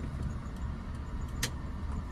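A car creeps forward slowly in first gear during a driving lesson, giving a steady, low engine rumble that stays even and fairly quiet throughout, with a brief faint jingle partway through.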